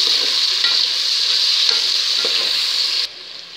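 Tomatoes fry with mutton in a pan for biryani, giving a loud, close, continuous sizzle that drops abruptly to a quieter hiss just before the end.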